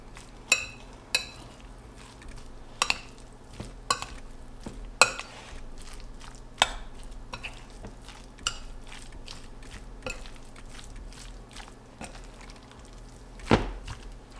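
A spoon stirs potato salad with dressing in a bowl, sharp scraping and clinking strikes against the bowl at irregular intervals over a faint background hum.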